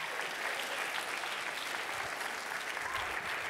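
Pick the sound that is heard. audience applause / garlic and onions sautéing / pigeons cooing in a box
audience applause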